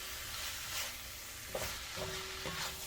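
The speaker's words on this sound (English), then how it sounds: "We'll stir this up again." Vegetables including radishes and green beans being stirred in a stir-fry pan, a low background sizzle broken by a few distinct scraping strokes in the second half, with no talking.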